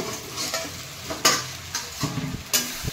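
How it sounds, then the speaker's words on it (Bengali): Susni and red amaranth greens fry in spices in a pan, with a soft steady sizzle broken by several distinct scraping stirs of a utensil, close and moderately quiet. "লো ফ্লেমে শাকটা 10 মিনিট ধরে ভাজতে হবে।"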